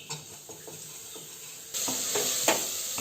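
Spiced masala with turmeric and chillies stirred in a pan, with scraping strokes of a spoon over soft sizzling; the frying grows louder and steadier partway through.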